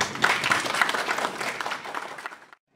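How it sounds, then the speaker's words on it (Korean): An audience claps at a Korean industry policy forum, a dense burst of applause from a crowded room that fades out after about two and a half seconds. "많은 박수 부탁드립니다"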